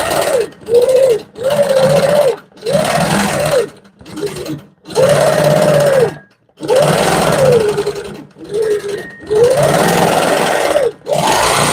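A sewing machine stitches a feather pattern on a bed quilt, running in loud bursts of steady whirring separated by brief pauses, with no talking.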